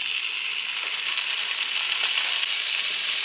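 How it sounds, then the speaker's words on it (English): Minced garlic sizzles in a pan with onions, a steady close crackling hiss with faint scraping from stirring throughout, no talking. "You want to get that garlic stirred around in there with the onions"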